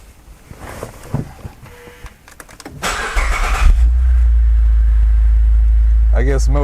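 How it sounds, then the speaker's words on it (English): A Saab 9-3 Turbo X cranks and fires up after some clicks and handling noises, then settles into a loud, steady low idle close by, with a brief voice at the end. "Now let's turn on the car and see if there is any static noise or alternator noise coming through."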